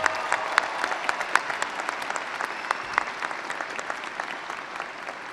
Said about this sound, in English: Let's give another round of applause to all the speakers and performers so far.